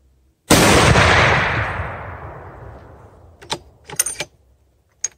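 One loud, close AR50 rifle gunshot with a long rolling echo that fades over a few seconds, then a few short metallic clicks and clanks.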